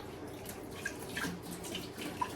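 Water runs from a kitchen tap while a spatula is rinsed under it, a steady gushing splash with small clinks and drips, fairly quiet and close, no talking.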